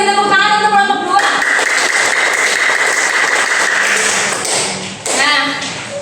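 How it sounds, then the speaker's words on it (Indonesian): Second-grade schoolchildren in a classroom clap together for a group, a dense burst of applause lasting a few seconds, with children's voices and an adult voice heard around it. "kita beri tepuk tangan untuk kelompok 2"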